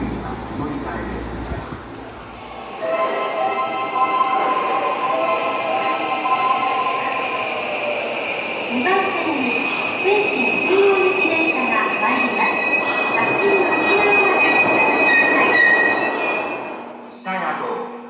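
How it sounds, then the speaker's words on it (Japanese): A train on the Seishin-Yamate subway line pulls into a platform at a station, rumbling loudly with squealing wheels and a long tonal whine for about fifteen seconds, while a station announcement voice talks over it. "1番線に谷上行き電車が参ります。"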